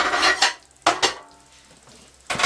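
Dishes and cutlery clatter and scrape while a portion of fish pie is served, with three short bursts of scraping separated by quiet gaps.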